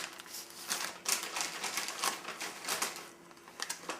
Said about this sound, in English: That noise you hear in the background is my cat playing with the paper wrapper that this came in.